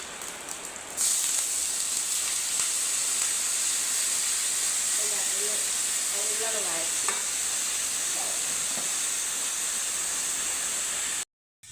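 Constant crackling sizzle of mustard seeds popping in hot oil, with a brief murmur of a voice partway through.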